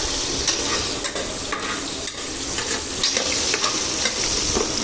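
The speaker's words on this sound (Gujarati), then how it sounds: "રાઈ જીરું બટેટા મરચાં ને બાદિયા નાખ્યા" Loud, steady sizzling of potatoes, chillies, mustard seeds and cumin frying in a pan, with stirring scrapes and crackles throughout; no voices.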